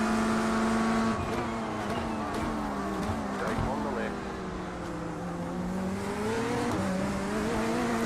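A Corvette GT3 race car in the iRacing sim drones loudly at high revs, its engine pitch dipping and climbing through gear changes, with people talking over it.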